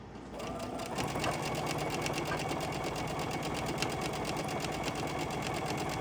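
Sewing machine running steadily as it stitches a line onto fabric in a studio, a continuous close mechanical whir with a fast even needle rhythm throughout.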